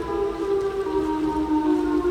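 Siren Head's siren in a horror video game: a steady, droning wail with layered tones that holds level for a couple of seconds over a faint rain-like hiss, with no voices.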